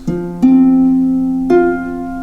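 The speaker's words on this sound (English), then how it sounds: "I think Carolyn maybe calls it a delayed thumb." Harp notes plucked in a delayed thumb pattern: a low bass note, then a sustained middle note entering late, with a third pluck near the end, each ringing on clearly and alone with no talking.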